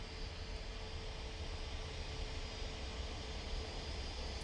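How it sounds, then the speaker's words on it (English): Ryanair Boeing 737 MAX 8 airliner at Manchester Airport, its engine noise a steady, broad distant roar that holds even throughout without any talk. "let's have to crack out that Ryanair 737 MAX 8"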